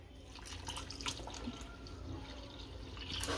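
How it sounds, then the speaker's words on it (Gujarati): Water is poured into semolina for fry idli batter, a steady close trickle with small dripping splashes throughout, no voices. "આ રવો લીધો છે એમાં પાણી નાખી દેશું"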